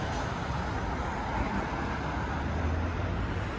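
Heavily congested road traffic near the Omatsu intersection in Yoshioka, Gunma, with long queues in both directions. A continuous, even rumble of idling and slowly moving vehicles is heard, with no speech.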